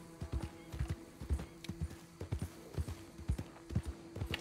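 Horse hooves clip-clop in a steady trotting rhythm in the video game Red Dead Redemption 2, moderately close and distinct, with no clear whinny.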